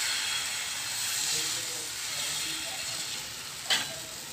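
Oil hisses and sizzles in a pan while a paratha fries, a steady bright frying noise with one short knock or scrape near the end.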